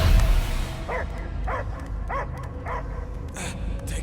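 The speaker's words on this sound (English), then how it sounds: "I hear only barking." A dog in the video game Guardians of the Galaxy barks in a string of evenly spaced yips over low game ambience and a background hum.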